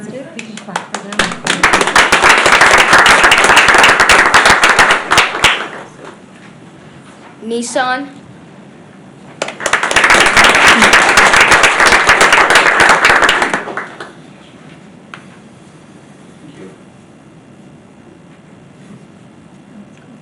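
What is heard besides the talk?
audience applause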